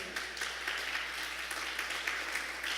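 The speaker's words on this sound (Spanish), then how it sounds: "¿Puede darle un aplauso al Señor?" Congregation applauding the Lord during a Spanish-language church sermon; a steady, fairly soft wash of many hands clapping together, sustained throughout without a voice over it.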